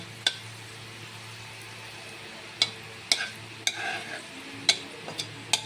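Fenugreek seeds fry in a pan over low heat with a faint, quiet sizzle. Several sharp spatula taps and scrapes are scattered across the stretch.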